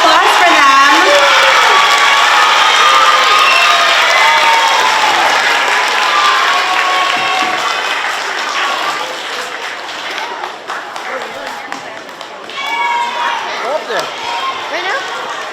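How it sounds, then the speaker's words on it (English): Loud applause and cheering from a school audience at a Student of the Month assembly, sustained and then tapering slightly, with excited shouts rising again toward the end. "Let's hear a round of applause for them."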